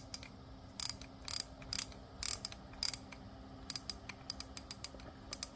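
A Shimano FX FC3000 spinning reel's clicker rattles in short, rapid bursts of sharp ticks, close and fairly quiet, with brief gaps between runs over a low steady background.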